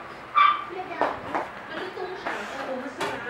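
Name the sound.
dog barking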